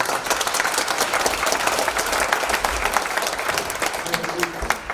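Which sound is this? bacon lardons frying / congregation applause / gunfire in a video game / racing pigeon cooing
congregation applause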